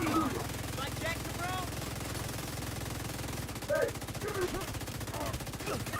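Sustained automatic gunfire in the shooter video game The Division, a rapid continuous rattle of shots with brief pauses, while a voice speaks over it.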